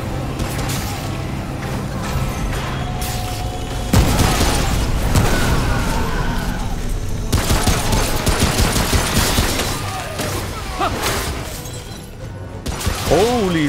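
Shotgun fire from the video game Remnant: From the Ashes: loud, dense bursts of blasts that come in heavy clusters over a steady game soundscape, with a voice talking at times.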